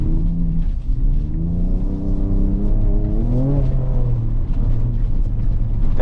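A 2024 Ford Ranger Raptor is driven hard across a rocky rally course over loose stones and boulders, its engine droning and revving with shifting pitch under constant rumbling road noise, heard from inside the cabin.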